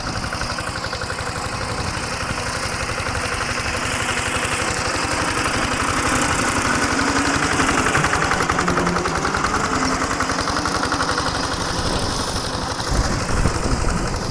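A farm machine engine built by young inventors runs steadily while shredding material into fertilizer, a loud continuous rattling drone with rapid pulsing throughout, close and alone.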